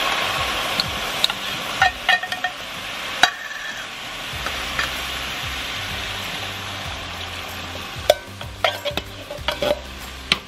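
Food-storage ingredients with their liquid, including green peppers and onions, dumped into a pan and stirred, giving a soft wet sizzle with scattered spoon scrapes and clinks against the pan, a brighter clatter near the end.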